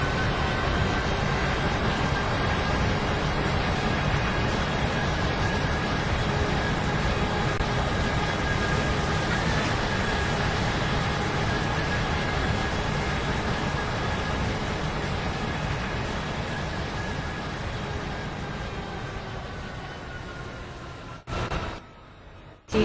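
An Airlink airport train ride in the Stepford County Railway video game, with a loud, steady rumbling roar of the moving train throughout that eases slightly near the end, alone without talk.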